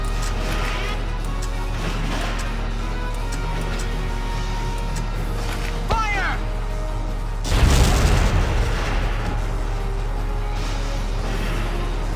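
A tank cannon shell explodes in the Valkyria Chronicles video game, a single loud, deep boom erupting midway over a steady background of game music and ambience, then fading out.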